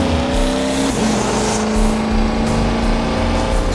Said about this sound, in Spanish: debo de reaccionar rápidamente acelerando a toda velocidad para poder darle alcance a la motocicleta